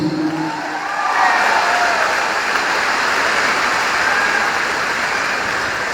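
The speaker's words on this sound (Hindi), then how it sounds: "एक जोरदार तालियां होनी चाहिए" Strong audience applause at a large network-marketing convention, a dense, steady wash of clapping that swells in after the first second and holds loud and continuous to the end.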